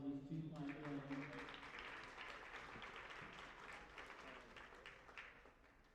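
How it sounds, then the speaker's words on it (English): Quiet applause from a crowd at a school wrestling meet in a gym, steady soft clapping following the tail of an announcer's voice at the start, tapering gradually toward the end. "Give a big round of applause for these two fine gentlemen"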